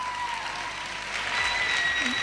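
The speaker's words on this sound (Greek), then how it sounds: "Χειροκρότηστε τα παλικάρια μας." A stage audience claps steadily and loudly throughout, a dense continuous wash of applause without pause, with faint tonal hum beneath.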